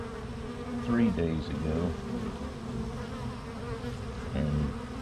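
Swarm of bees buzzing around an active hive, a dense continuous drone close by with individual bees passing near, and a person speaking briefly over the buzzing.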